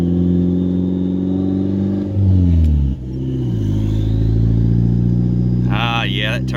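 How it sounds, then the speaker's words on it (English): A turbocharged Mazda 3 on a test drive after an oil leak repair: close engine drone rising and falling through shifts, with a turbo whistle and whoosh near the end. "that turbo sounds nice"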